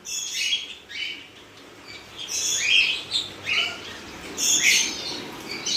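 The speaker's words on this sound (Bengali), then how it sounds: "এখানে আমার 1 পেয়ার ককটেল আছে, পাইট প্যাচলেসের পেয়ার, ফিমেল ভেতরে ডিম দিয়েছে" Two cockatiels, a pied pair, chirp in an aviary, bursts of shrill tweets and squawks coming in uneven clusters over a quiet background, fairly close, with no talking.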